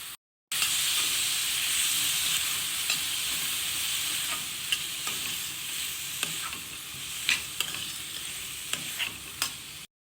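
Field beans (pavte) frying in a pan with onion, tomato and roasted spices for a Konkani val birde curry, a steady close sizzle broken by scraping stirs and small spoon knocks.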